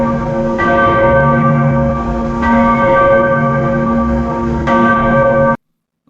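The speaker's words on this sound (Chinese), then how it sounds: "这边是山上有个庙在早上进行缓慢的一个钟声的一个响起" A synthesized temple bell on a mountain in the morning tolls slowly, three resonant strikes about two seconds apart, each with a long humming sustain, loud and alone, then silence at the end.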